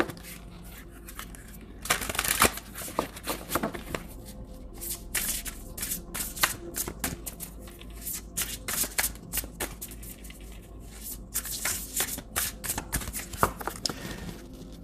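Shaman's Dream Oracle cards are shuffled close up in a quiet room, with repeated papery riffles and slaps coming in uneven bursts, some louder flurries among softer shuffles, and no talk.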